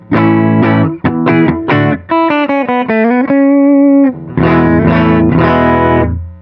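An electric guitar plays a distorted riff of chords and bends through a Walrus Audio ACS1 amp simulator set to a Fender Deluxe emulation, loud and close with a crunchy, saturated tone.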